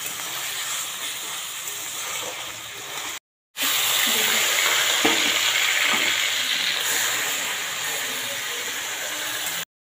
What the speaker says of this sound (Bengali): রাইসের জন্য আমরা চিকেনটা ভেজে নিচ্ছি।